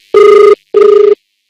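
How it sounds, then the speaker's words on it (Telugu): A telephone rings in two even bursts, each about half a second long with a short gap between them. The bell tone is loud, steady and close, there is silence after the second ring, and no one speaks. "ఫోన్ రింగ్ అవుతుంది, సైలెన్స్."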